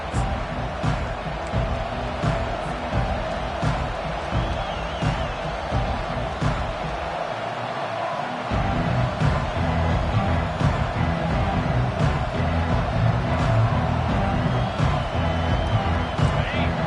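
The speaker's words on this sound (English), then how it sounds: "This crowd trying to show them what it's going to be like all day in this house." A college football crowd at a home stadium game against Michigan roars and cheers steadily, swelling louder halfway through, under the continuous voice of a play-by-play commentator.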